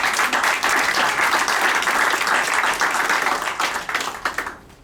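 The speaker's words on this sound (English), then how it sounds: "if we could start off with a round of applause for them" Audience at a community candidate forum claps for the candidates, a close, loud burst of hand clapping that holds steady, then thins and fades out near the end.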